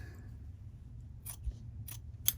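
Scissors snip through a quilting fabric piece for a hexagon log cabin block, three short crisp cuts close by in a quiet room, spaced about half a second apart.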